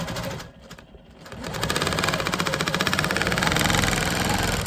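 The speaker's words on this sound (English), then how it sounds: "I'm just gonna keep quilting until I fill this panel up" A sewing machine quilting a bag panel runs close and loud in a rapid, steady mechanical chatter after a brief pause, with no talking.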